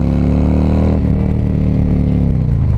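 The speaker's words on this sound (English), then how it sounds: "This bike has so much power. Let me just give you a little snippet." A Road Glide motorcycle engine revs in a loud, close, throaty burst whose pitch settles and drops slightly toward the end, with no one talking.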